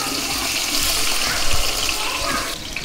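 Onions frying in oil in a pan while cooking mutton mandi, a steady loud sizzle and hiss running throughout, close by, fading slightly at the end.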